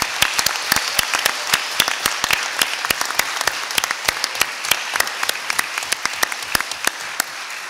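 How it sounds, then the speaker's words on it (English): A crowd applauds steadily at a school board meeting, many hands clapping in a dense, sustained patter that carries on without pause. "Let's hear a big hand of applause for them."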